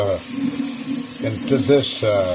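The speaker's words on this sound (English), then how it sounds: "I'm going to put the regular pipe water or faucet water" Faucet water runs steadily into a pan in a home kitchen, a continuous close splashing hiss that lasts throughout while a person talks over it.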